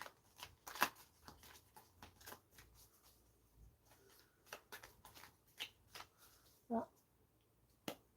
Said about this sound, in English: I don't feel like I shuffled this well enough.